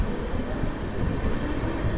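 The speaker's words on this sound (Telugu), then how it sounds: "సో ఇప్పుడైతే ట్రైన్ అయితే లోపలికి అయితే వస్తుంది" A passenger train pulls into Byatarayanapura station as a steady, loud rumble with a continuous broadband roar and no distinct clacks.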